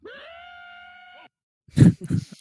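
A human voice imitates a scream with a long, sustained, wavering wail, then falls silent before a few short groaning, breathy vocal bursts.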